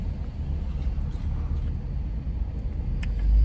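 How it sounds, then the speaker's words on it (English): Bumper cars running on a ride floor, a steady low rumble of motors and rolling with a heavier thump near the end. "I'm about to play bumper cars over here."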